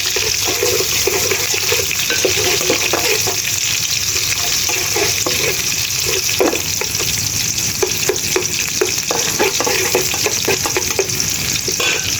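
Rice and lentils for bhuna khichuri fry in oil with a loud, steady close sizzle. Repeated scraping stirs and clicks sound throughout, with no talking.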